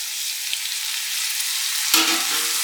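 Ginger garlic paste frying in a pan for a country chicken biriyani, a continuous loud close sizzle, with a brief stirring scrape and clunk near the end.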